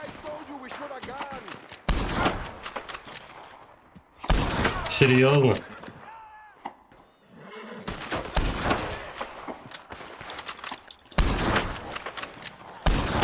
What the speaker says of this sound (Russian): Ты нажимаешь на выстрел, она стреляет где-то секунды через 2